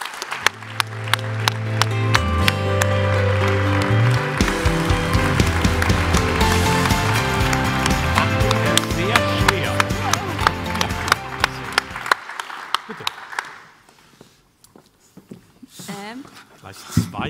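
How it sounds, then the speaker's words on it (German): An award ceremony audience applauds as a director is called to the stage, steady clapping under loud stage music that stops, then a few scattered claps linger. "Großen Applaus."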